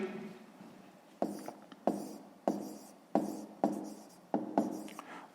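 A pen scratches across paper in short repeated strokes, about eight bursts in a loose rhythm, close and fairly quiet, as math working is written out by hand.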